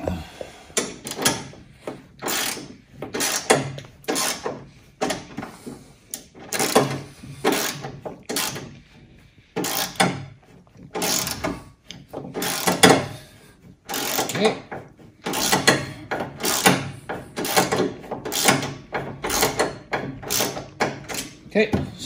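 A ratchet tightens bolts during assembly of a Venom Motorsports 125cc mini jeep. Bursts of quick, close clicking repeat throughout, with short pauses between strokes.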